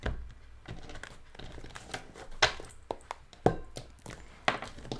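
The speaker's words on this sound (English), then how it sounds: "This is how to shuffle the bloody big deck." Large, oversized deck of playing cards being shuffled by hand, with repeated crinkly riffles, soft slaps and thunks of card stacks in irregular bursts, close and moderately loud with no talking.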